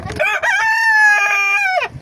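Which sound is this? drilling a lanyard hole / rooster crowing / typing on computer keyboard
rooster crowing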